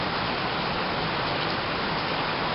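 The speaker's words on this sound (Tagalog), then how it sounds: "Ang lakas ng ulan." Heavy rain pours in a dense, constant hiss with no letup, loud and close, with no voices.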